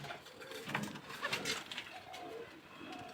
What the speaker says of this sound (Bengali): এ হচ্ছে নীলদুম্বা কবুতরের নাইম শপির উস্তাদ নাইম শাফি ব্লাড লাইনের